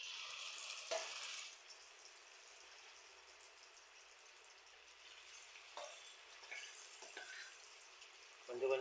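Cauliflower pieces frying in moderately hot oil for chilli gobi, a faint steady sizzle with small crackles and pops, quiet throughout, with a brief louder clatter near the start and end.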